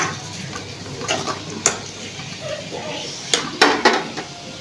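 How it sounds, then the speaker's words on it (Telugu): Onions frying in a pan for an egg and onion fry, a steady sizzle with a few sharp clinks of a spoon stirring against the pan. "ఇవి మంచిగా దూరగా వేగాలి"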